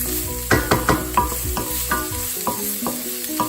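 Brown or white onions cook in a pan until soft, with a steady sizzle broken by several clattering stirs and scrapes spaced about half a second apart, close and moderately loud.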